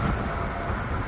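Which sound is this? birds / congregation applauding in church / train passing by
train passing by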